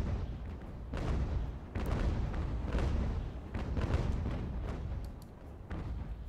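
Cannon fire from sailing warships in the game Ultimate Admiral: Age of Sail, a run of loud, heavy booms about every second, some overlapping into rolling rumbles, with no talk over them.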